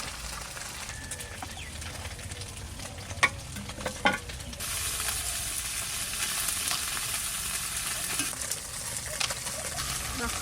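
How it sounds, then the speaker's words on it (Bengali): Fish frying in oil in a pan sizzles as a steady, moderately loud hiss, becoming denser partway through, with a few soft clatters of stirring and faint bird calls outdoors. "মাছটা ভাজা হয়ে গেছে, তুলে নিই।"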